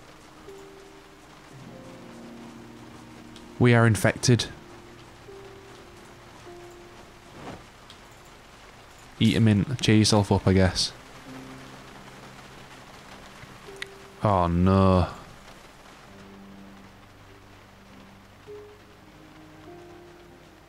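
Steady rain falling in the zombie survival game Project Zomboid, a soft continuous patter running throughout under a few short bursts of someone talking.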